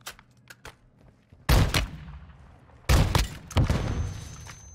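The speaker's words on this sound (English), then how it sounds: "They love their flashbangs in here, I'm telling you now." Flashbang grenades go off in Warzone 2.0 DMZ, two loud sharp blasts with ringing tails and a further bang, following a few smaller clicks and thumps.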